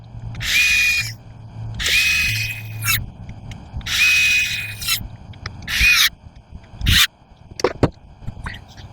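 A power screwdriver backs screws out of a green Gardenline hedge trimmer in four or five separate whirring bursts, each about a second long with short gaps between, close and loud, followed by a few clicks and clatters.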